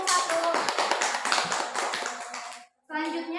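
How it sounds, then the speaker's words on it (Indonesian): Students in a classroom applaud a group with a burst of quick, fairly close clapping that fades out, followed by a brief pause and then a voice speaking. "beri tepuk tangan untuk kelompok 1."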